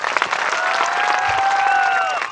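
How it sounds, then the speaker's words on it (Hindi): An audience at a Hindi church Bible-study gathering applauds for a guest reader, a dense, steady wash of clapping lasting a couple of seconds, with faint tonal sound running through it. "एक बार ताली हो जाए अय्यूब साहब के लिए"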